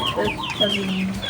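A Rhode Island Red chicken clucks close by in a short burst of several quick, throaty notes, with faint background noise.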